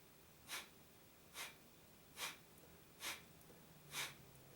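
Five short, forced exhalations through the nose in Breath of Fire breathing, evenly spaced about once per second, faint and close against a quiet hiss.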